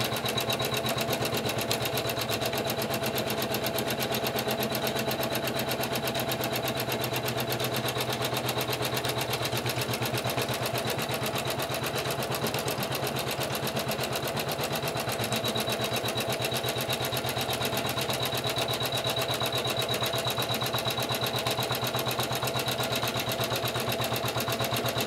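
Embroidery machine stitching a quilted pillow in the hoop, a continuous close, loud mechanical whirring and rattling that keeps a fast, even rhythm the whole time with no talk.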